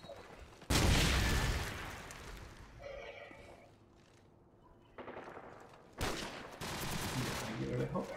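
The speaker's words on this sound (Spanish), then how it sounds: "Tiramos una granada." A grenade thrown and exploding in the video game Call of Duty 4 Modern Warfare, in a team deathmatch: loud blasts and bursts of gunfire strike twice with quieter game sounds between.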